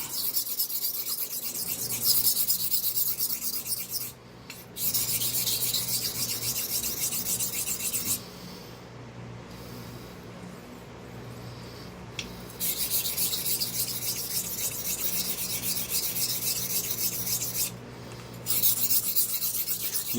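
A straight razor is honed on a stone, giving long stretches of steady rasping strokes that stop for short pauses and then start again, close and fairly loud, with no voices.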